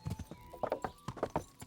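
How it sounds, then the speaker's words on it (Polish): Horse hooves clip-clopping in the video game Kingdom Come: Deliverance, a quick series of irregular hoof clops at close range, with a soft whinny-like tone faintly underneath. "Jaki wierny koń."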